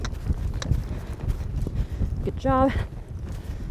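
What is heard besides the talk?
horse hoofbeats at a lope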